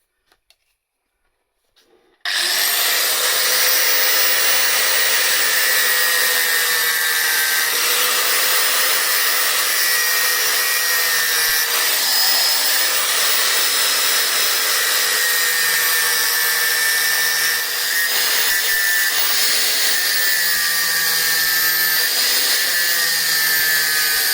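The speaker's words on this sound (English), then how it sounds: "Now I'm going to try and cut it with this grinder." An angle grinder cuts a circular shape out of sheet metal on a Mitsubishi Magna street stock race car, a loud steady high whine starting abruptly after a brief quiet and running continuously with slight wavers in pitch.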